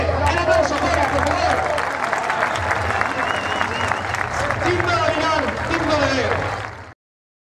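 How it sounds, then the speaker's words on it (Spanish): Arena crowd at a bullfighting recortadores event applauding Mica Romero, sustained loud clapping mixed with crowd murmur and shouts, broken by a commentator's voice, cutting off abruptly near the end. "Esas palmas para Mica Romero."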